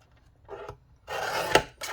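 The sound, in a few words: trimming journal card down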